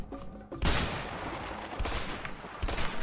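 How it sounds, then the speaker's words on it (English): Bursts of gunfire in the video game A Way Out, sharp loud volleys starting after a quiet half second, followed by scattered repeated shots through the rest. "I'm like shooting them in the head!"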